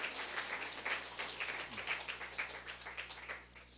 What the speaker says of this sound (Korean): 박수를 한번 쳐드립니다